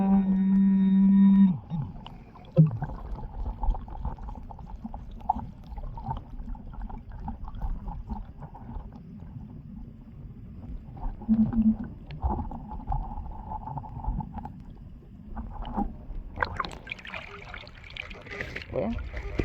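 Metal detector chattering with erratic electronic tones while relic hunting in a creek, a steady low hum and tone at the start, then broken warbling under rushing water and some talk.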